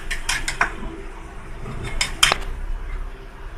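Egg and flour are whisked in a bowl, giving quick, irregular metallic clinks and taps of a utensil against the bowl, fairly close and with no one talking.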